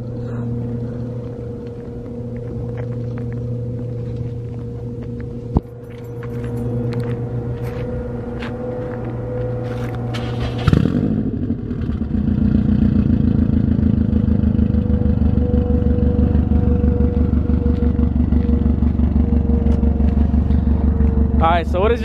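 A Subaru WRX STI engine cold-starts, cranking and catching with a sharp surge, then settles into a loud, steady rumbling idle that continues to the end.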